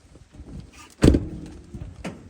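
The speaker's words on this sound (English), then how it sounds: "Let me open the door." A vehicle door is opened during a soybean harvest on a farm, heard as one close, solid thunk with a short rattle, followed by a fainter click a second later.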